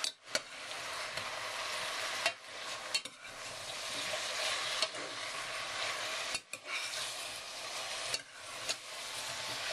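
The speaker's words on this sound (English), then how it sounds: "We're going to fry these up for keep stirring them and just fry them up for 3 or 4 minutes" Mushrooms fry in a little oil in a pan while being stirred, giving a steady close sizzle with a few brief scraping stirs through the sound.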